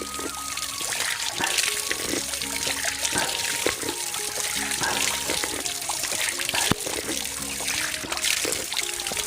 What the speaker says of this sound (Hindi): ये नेचुरल पानी आ रहा है